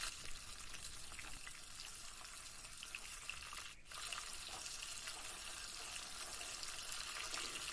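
Small eggplants fry in a generous amount of mustard oil, giving a steady, dense sizzle with a brief dip midway. The frying is close and continuous, and no one speaks.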